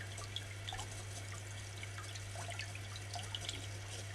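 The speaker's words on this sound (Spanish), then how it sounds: "Estás gastando un poco de agua," Water runs steadily from a tap at home, a faint continuous trickle with small splashes over a low electrical hum, with no talking.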